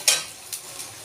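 Wet spice paste mixed with water hitting hot oil in a pan for a thin meat curry, giving a sharp sizzling burst followed by two softer hisses as it is stirred.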